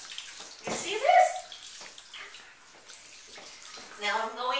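Tap water runs and splashes steadily while a large cat is washed in a tub, with a continuous rushing wash under a person's nearby chatter and a louder surge midway.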